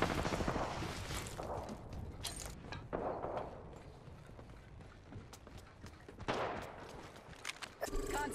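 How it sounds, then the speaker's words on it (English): Gunfire crackles in the Apex Legends video game, with bursts of shots at varying distances, some close and sharp, others distant, over a busy battle ambience. "I'm getting shot at"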